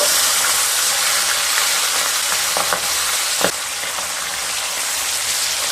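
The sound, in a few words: pabda fish frying in mustard oil after flipping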